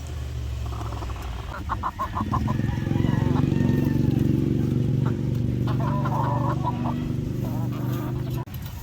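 Chickens cluck in short bursts close by over a low engine rumble, with a voice talking in the background.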